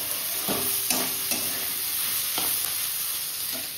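Food frying in a pan gives a continuous sizzle, with a few brief clinks and scrapes of stirring scattered through it and no voices.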